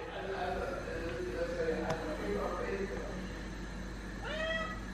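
Indoors, a person talks in Italian throughout, and a cat gives a short meow near the end, close and fairly loud above the voice.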